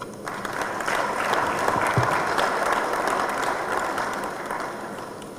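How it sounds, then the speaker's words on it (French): An audience applauds at the opening ceremony of the OAPI Administrative Council in Brazzaville, sustained dense clapping from a large crowd that swells and then slowly tapers. "Sous vos applaudissements."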